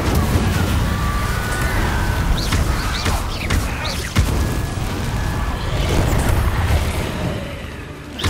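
Incendio fire spell cast in Hogwarts Legacy, a continuous loud whooshing roar of flame with crackling bursts and magical swishes layered over dense battle noise, sustained for several seconds before easing slightly.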